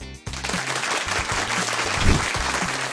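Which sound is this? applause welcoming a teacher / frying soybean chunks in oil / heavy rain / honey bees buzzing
applause welcoming a teacher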